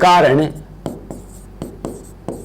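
Chalk or marker writing on a board during a physics lesson: a voice talks at the start, then four sharp, evenly spaced taps and strokes on the surface.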